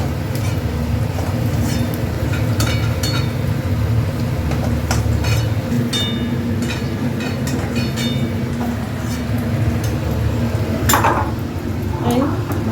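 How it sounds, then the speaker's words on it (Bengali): Potatoes fry in hot oil with dried red chilli and onion, a steady close sizzle running throughout, broken by light clinks of the spatula stirring the pan. "আলুটা ভাজা হয়ে গেছে, আর বেশি ভাজবো না।"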